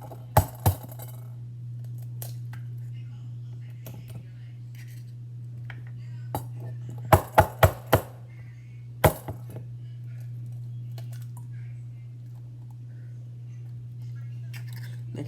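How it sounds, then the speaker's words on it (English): Eggs cracked against a bowl and dropped in make a few sharp knocks and taps, scattered with a quick cluster near the middle, over a steady low electrical hum, and no voice can be heard. "So the first step would be to put the eggs into the bowl."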